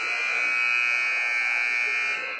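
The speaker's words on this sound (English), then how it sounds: "as we hear the buzzer in 2," A loud, sustained electronic buzzer blares steadily for a couple of seconds, harsh and piercing, ending the quarter in a girls' high school basketball game in a gym.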